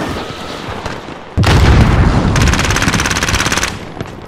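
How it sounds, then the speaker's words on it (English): A grenade blasts in Call of Duty Warzone on Rebirth Island, a loud sudden boom followed by a close, rapid burst of automatic gunfire that rattles for about a second before cutting off. "Grenade out!"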